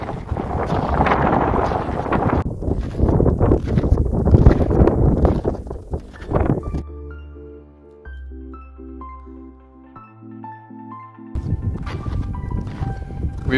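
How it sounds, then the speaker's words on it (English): Strong gusting wind buffets the microphone on a mountain summit, roaring loudly and unevenly for several seconds before a stretch of music takes over, then the wind returns. "there was way too much wind, so I didn't really talk at all"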